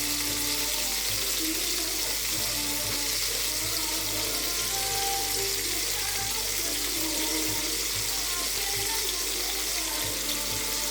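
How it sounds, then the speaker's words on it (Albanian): Floured, marinated wild boar meat browning in a pan with only fat, a dense continuous sizzle under a steady background hum, loud and unchanging throughout. "kemi kabërdisur mishin vetëm me krit, edhe që e kemi spërkatur me miell"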